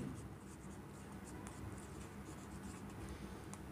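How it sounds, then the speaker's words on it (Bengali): A pen scratches steadily across a notebook page in a continuous faint stream of small strokes, close up and quiet, with no one talking. "প্রথমত আমরা ওই শর্তটা লিখে দিচ্ছি"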